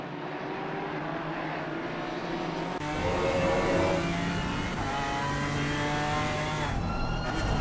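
GT race cars braking hard into the first chicane at Imola, engines roaring and downshifting through a dense, loud blend of several cars, pitch shifting as they slow.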